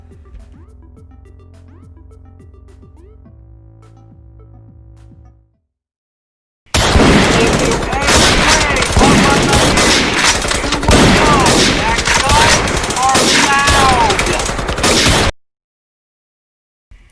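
Gunfire from the video game Hotline Miami comes as loud, dense bursts of rapid shots and impacts lasting several seconds. It follows a quieter stretch of game music and then cuts off abruptly.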